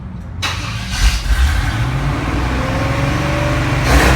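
A truck engine cranks briefly, then catches and rumbles to life, idling with a rough, throaty roar close by.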